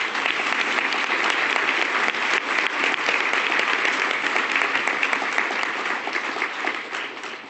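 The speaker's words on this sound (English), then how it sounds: "give Raul another round of applause for a great" An audience at a Canadian Club Toronto luncheon claps steadily for a speaker, a dense, even wash of applause that holds for several seconds before tapering slightly at the end.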